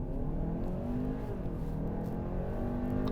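A 2023 Hyundai Santa Fe Calligraphy with a 2.5-liter turbocharged engine accelerates hard from 0 to 60 in sport mode, its engine note rising steadily and droning loudly from inside the cabin, no speech.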